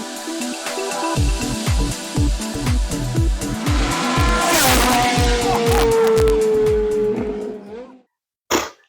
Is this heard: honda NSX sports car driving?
yes